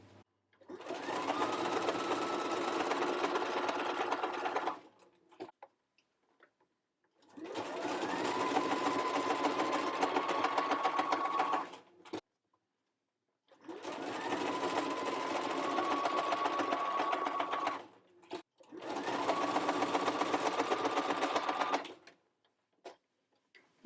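Sewing machine stitching exposed elastic onto a doll skirt waistband, running in four steady humming bursts of several seconds each, split by short pauses for adjusting the fabric, close and clear with no talking.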